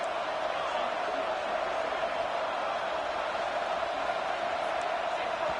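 Simulated stadium crowd in an NCAA college football video game roars as a steady, loud, dense wash of noise with a faint whoop, under commentary.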